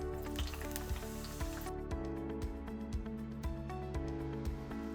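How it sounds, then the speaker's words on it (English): Onions frying in oil already flavored with garlic and dried chili, giving a steady close sizzle with a string of soft pops and crackles spread across the whole stretch, no talking over it. "Alright, next I'm gonna fry my onions."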